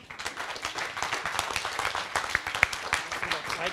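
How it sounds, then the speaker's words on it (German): An audience at a lecture on the NSA affair and surveillance claps for the arriving speakers, a brisk patter of many hands that rises quickly and holds, with a few voices underneath. "Ihr Applaus."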